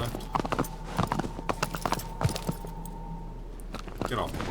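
A horse gallops in the game Shadow of the Colossus, hooves pounding in quick irregular beats with jingling tack, loud and close, with bursts of other game noise.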